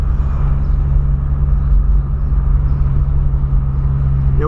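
The 1.6 engine of a Volkswagen Polo Sedan idles steadily, a low, constant rumble with a smooth hum and no change in revs, heard close up.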